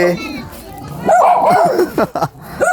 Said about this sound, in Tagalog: Oy, may aso pala.